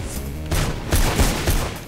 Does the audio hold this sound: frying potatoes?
no